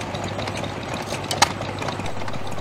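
An Amanco stationary engine at a steam fair in Barton under Needwood runs with a steady, moderately loud low chugging hum, and one brief sharp knock cuts through midway.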